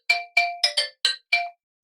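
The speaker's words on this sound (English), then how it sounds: "Sorry for the phone call." A phone rings with six bright, chiming tones in a quick, slightly uneven pattern, each note clear and ringing briefly before the next, with silence after.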